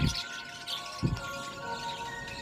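Pet budgerigars give a few short chirps and light tweets, fairly close against a faint steady background hum, with no talk.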